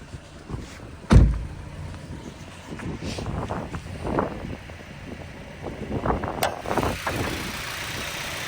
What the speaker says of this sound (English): So that's the engine. It's a 2-liter Mazda engine.